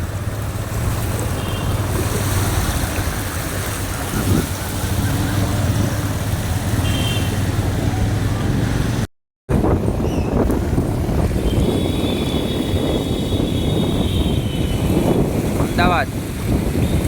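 Steady broadband wash of heavy rain and running floodwater on waterlogged streets in Ahmedabad, with gusty wind buffeting close by, a short dropout midway and a voice talking briefly over it.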